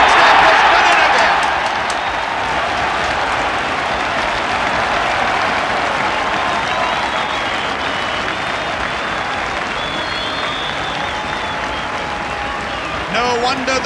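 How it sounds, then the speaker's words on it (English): A large rugby crowd at a 1973 East Wales versus Australia match roars and cheers, loud at first and then settling into a sustained broad wash of noise under a commentator's voice. "No wonder the crowd have really risen to that lovely bit of twinkling footwork by Gerald Davis"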